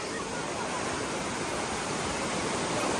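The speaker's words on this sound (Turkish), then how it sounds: "Burada gördüğünüz gibi şelale moruk." A waterfall with grey-tinted water, a steady broadband rushing roar of falling water, continuous and fairly close, with no speech over it.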